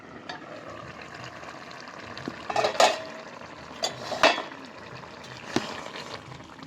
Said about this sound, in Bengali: এবার আমি ঢাকনা খুলে দেখে নেব সয়াবিন চিচিংয়ের দমটা আমার ঠিকঠাকভাবে হয়েছে কিনা